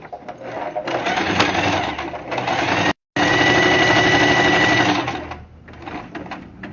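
A sewing machine runs in a loud, rapid whir while sewing a backstitch, stopping briefly in the middle and then starting again before slowing to a halt.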